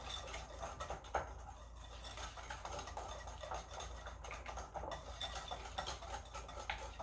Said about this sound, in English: if you whisk it extra hard for like a minute, it ends up getting really glossy